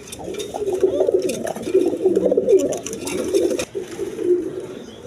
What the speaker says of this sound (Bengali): এক পেয়ার কবুতর আছে দেখেন কালদম কবুতর ইন্ডিয়ান কালদম